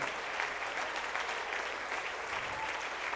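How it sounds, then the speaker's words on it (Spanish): A church congregation keeps up steady, sustained applause from many hands, an even wash of clapping with a faint voice or two underneath. "Aplaude por el milagro en tu casa."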